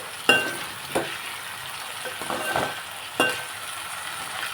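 Potatoes frying in oil in a pan, a steady close sizzle with a few soft clinks and scrapes of stirring.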